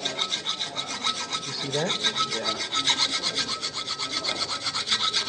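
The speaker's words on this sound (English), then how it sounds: "The longer you take with the file, the better and the easier it will be with the sandpaper." A hand file works steadily over a stone sculpture, making a continuous rhythmic rasping of quick, even strokes up close, with a brief spoken question partway through.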